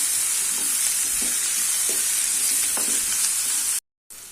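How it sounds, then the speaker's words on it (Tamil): Green peas and vegetables for coconut milk rava upma sauté in hot oil with a loud, steady sizzle and soft stirring scrapes. The sound stops in a brief silence near the end, then the sizzle resumes. "இது லைட்டாக கொஞ்சம் வதங்கட்டும்"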